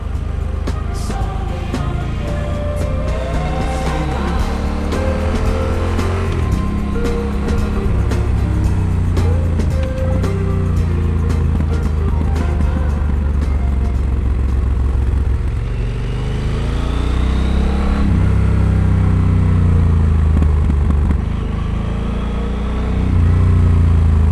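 A Yamaha Super Tenere motorcycle cruises California roads, its engine droning steadily and loud close by, pitch rising and falling through gear changes and throttle shifts, with constant wind rush.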